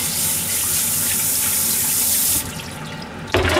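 Running tap water pours steadily into a kitchen sink while something is washed, a continuous loud splashing rush that cuts back partway through, then a brief louder splash at the end.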